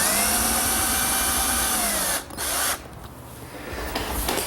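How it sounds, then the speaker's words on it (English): A power drill runs steadily and loudly, driving screws to attach a hinge to a laundry-center door, then cuts off briefly before a quieter whir resumes. "and then attach it with screws."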